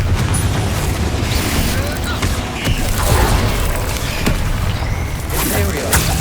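Confringo blasting spell explosions in Hogwarts Legacy, loud booming bursts and crackling impacts over constant battle noise, with a voice heard over the action.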